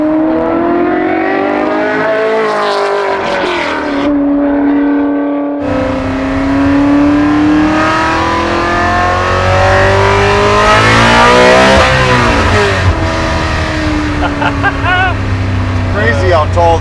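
Custom widebody Ford GT40 restomod revving to high rpm: a loud engine note climbing and falling through several revs, with a sharp rising sweep near the middle and a rough idle rumble toward the end, people talking alongside.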